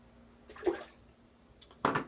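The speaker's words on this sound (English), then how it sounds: "Let me rinse off here" Water splashing briefly at a sink while rinsing off after a shave with a 1930 GEM Micromatic single edge razor, two short soft splashes close by.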